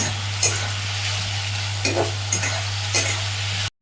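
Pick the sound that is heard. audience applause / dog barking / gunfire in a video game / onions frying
onions frying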